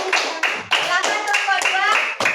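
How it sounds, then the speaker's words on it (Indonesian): Students in a Hindu religious education class clap for group 1, a quick rhythmic burst of patterned hand claps overlapped by children's voices. "Tepuk tangan untuk kelompok 1."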